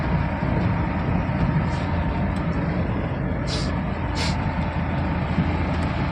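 A loaded truck rolls slowly along the highway past Indapur toward Bhigwan, its steady low engine and road rumble continuous and close throughout, with a few faint hiss-like bursts in the background.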